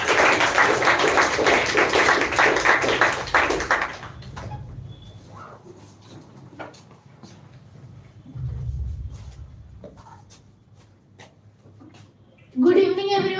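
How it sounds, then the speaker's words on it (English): Clapping from an audience at a children's English speech event greets someone speaker, a dense, loud burst of applause for about four seconds, followed by quiet room noise and a few scattered taps. "please clap for Mr. Dhruv"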